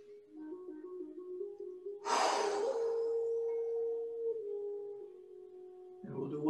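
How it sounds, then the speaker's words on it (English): A long, deep inhalation during a lung-strengthening qigong exercise, breathy and close, following a low hummed tone and ending with another sharp breath. "Breathe in."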